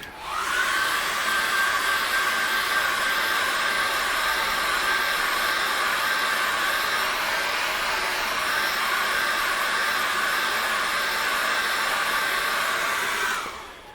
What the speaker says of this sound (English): I'm drying this as I go along